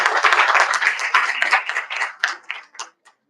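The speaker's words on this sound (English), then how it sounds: "So everyone give a round of applause for yourself." An audience at a forum claps in a dense burst that thins into scattered, separate claps before fading to silence near the end.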